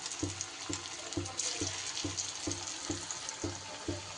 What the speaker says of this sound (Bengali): আরও কয়েকটা আমি ছেড়ে দিচ্ছি।